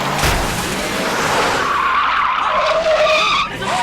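A car reverses fast with its tires skidding and squealing loudly, the screech sliding and wavering for several seconds in a tense action-movie chase.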